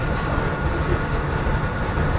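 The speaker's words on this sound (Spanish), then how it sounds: "Los nuevos trenes." A new Rodalies de Catalunya R8 regional train running between Martorell and Granollers gives a loud, steady rumble with a dense wheel and track roar, heard close and without pause.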